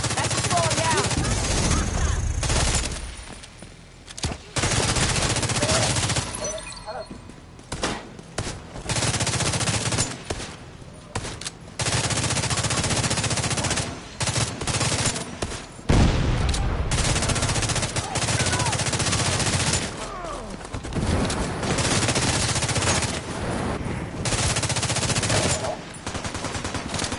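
Near-constant loud gunfire at enemies in the video game Division 2, with dense automatic bursts and shots broken by brief lulls, and occasional voices under the shooting.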